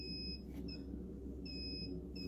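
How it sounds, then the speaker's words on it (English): Fire alarm set off by a power outage in a storage room, beeping in two repeated high electronic bursts over a steady low hum, faint and alone. "A power outage in one of the storage rooms was causing the fire alarm to go off."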